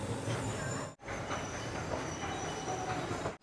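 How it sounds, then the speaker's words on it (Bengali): A train pulls into Coimbatore station with a continuous, fairly loud rumble of wheels and carriages rolling along the track, broken by one brief drop, and no voices. "অবশেষে আমাদের ট্রেন ঢুকছে কোয়েম্বাটুর"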